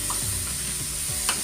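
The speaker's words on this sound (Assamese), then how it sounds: "নহৰু আদাৰ যিটো কেঁচা গোন্ধ সেইটো নোযোৱালৈকে একদম ধুনীয়াকৈ ভাজি লওঁ" Onion, tomato, garlic and ginger frying in a pan for a fish curry, with a steady close sizzle and a few soft scraping stirs.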